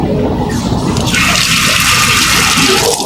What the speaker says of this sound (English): we've got running water